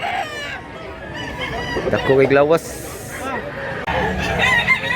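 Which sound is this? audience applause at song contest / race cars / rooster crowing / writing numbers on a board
rooster crowing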